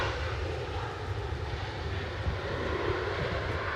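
A Ryanair airliner at Edinburgh Airport produces a steady, fairly distant jet engine roar with a deep rumble that holds evenly for the few seconds, with no talk over it.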